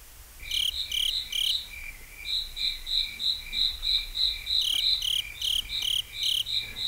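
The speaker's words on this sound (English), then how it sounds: "Those are crickets." Crickets chirp in steady pulsing bursts, high and shrill, repeating rhythmically over a quiet background.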